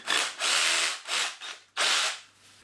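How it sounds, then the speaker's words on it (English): A power drill bores deeper into a wall for a plug in several loud, close bursts of whining, grinding drilling separated by short pauses, ending in a quieter tail. "I'm just going to drill this hole a little bit deeper"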